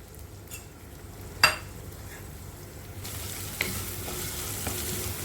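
Sliced onions sautéing in a pan for bread pizza give a steady, low sizzle, with a sharp utensil clink early on and a few light scrapes of stirring; the frying grows a little brighter and louder halfway through.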